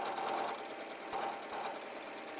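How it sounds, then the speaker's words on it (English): An Elna 680EX sewing machine stitches steadily at close range, a continuous buzzing whir with slight pulses in its rhythm and no voices over it. "the sewing machine that is making this all possible is the Elna 680EX sewing machine"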